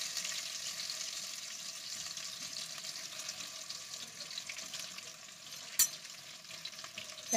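Chicken pieces fry in hot oil in a pan, a steady soft sizzle running throughout with one sharp clink of a utensil near the end.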